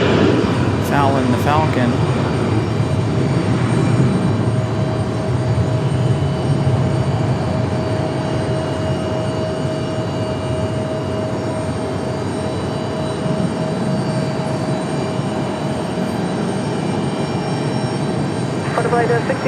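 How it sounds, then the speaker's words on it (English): A Frontier airliner departs Raleigh-Durham airport, its engines a steady broad roar holding at a fairly constant level throughout, with voices talking over it. "As we have a Frontier departure."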